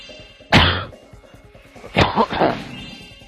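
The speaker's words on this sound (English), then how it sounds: "I tend to cough a lot during this time of the year." Two harsh, close coughs, a single loud one followed after a pause by a rougher burst of several, against a faint background hum.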